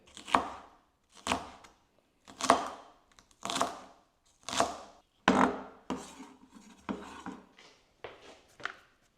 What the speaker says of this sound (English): And chop them up manually.